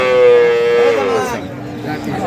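A Jersey calf, six months old, lets out one drawn-out moo up close at a cattle market, its pitch sliding slightly downward before it fades into quiet outdoor background.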